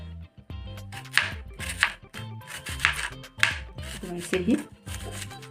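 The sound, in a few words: knife slicing onion thinly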